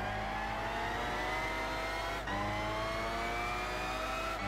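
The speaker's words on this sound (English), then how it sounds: "It is a Nissan race car." A Nissan road-going race car engine roars steadily in Gran Turismo 6, a loud continuous revving drone with rising harmonics, briefly dipping mid-way before climbing again, with no talk over it.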